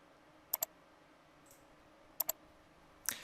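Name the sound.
mouse click on Add button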